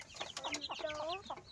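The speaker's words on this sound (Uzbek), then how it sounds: "Ona tovuq de." A mother hen gives a short run of close, soft clucks and drawn-out bawking notes, faint but clear, with no talking over it.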